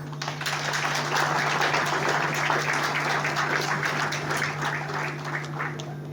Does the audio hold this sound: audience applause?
yes